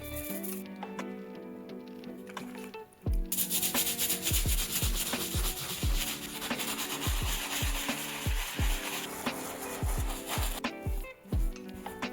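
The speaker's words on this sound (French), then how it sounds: "Donc on va peut-être plutôt passer avec la brosse moyenne" A medium brush scrubbing the sole of a Nike Air Max 1 sneaker, rapid rhythmic rasping strokes, close and loud, in a steady back-and-forth burst that starts after a quieter, lighter patch, with no talking.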